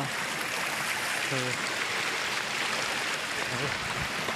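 The Doman river runs near a hillside temple path, giving a steady, broad rushing wash that stays even throughout, with brief faint voices rising above it.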